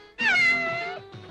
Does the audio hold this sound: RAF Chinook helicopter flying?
no